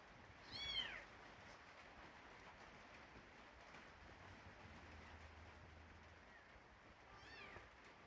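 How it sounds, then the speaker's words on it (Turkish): Young kitten crying, with the mother cat close by: a faint, distant mew near the start and another near the end, barely above a quiet hiss of background noise. "Kediyi yere attı. Bu da bağırıyor."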